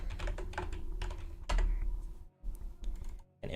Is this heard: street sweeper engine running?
no